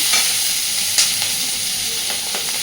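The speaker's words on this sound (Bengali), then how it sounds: "জাস্ট একটু নাড়াচাড়া করেই দিয়ে দেবো আলু।" Vegetables with chopped onion and green chili frying in a pan, a loud continuous sizzle and hiss broken by a few close scraping stirs.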